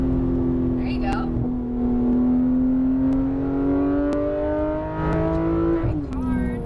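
A Porsche GT3 RS 991 accelerates on a race track, its engine note climbing steadily in pitch and holding loud and close from inside the car, with a brief dip near the end, while people talk over it.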